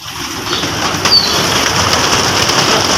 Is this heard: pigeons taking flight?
yes